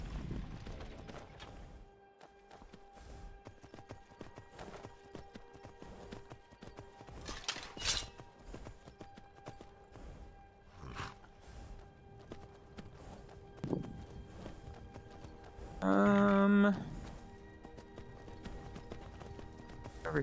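Hooves clip-clop as a horse is ridden in Skyrim VR, an uneven, moderately close patter of hoofbeats with occasional thuds and a brief tonal game effect near the end, no talking.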